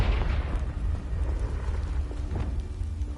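A Confringo blasting spell explodes in the video game Hogwarts Legacy, giving a loud booming burst at the start that settles into a sustained low rumble with a few faint pops.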